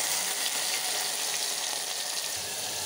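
Tomatoes frying in hot oil with mustard seeds and cumin, a loud, steady sizzle and crackle that fills the whole clip without any voices.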